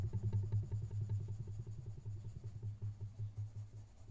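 Pencil shading on paper for a car drawing, a quiet steady scratching with rhythmic back-and-forth strokes, close and continuous.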